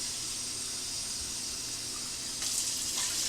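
Water running steadily into a vinegar solution for washing fruit, a constant hissing flow that grows louder and brighter near the end, close by with no talk.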